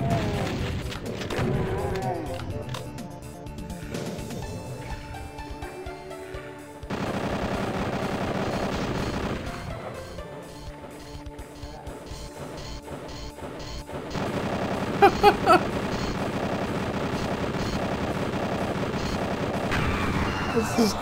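Rocket fire in a Doom custom map, sharp blasts and crashing explosions mixed with game music and noise, bursts scattered through the clip and a louder cluster of impacts near the end.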